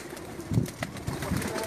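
Pigeons on a rooftop coo softly in a few low, brief calls against faint background noise.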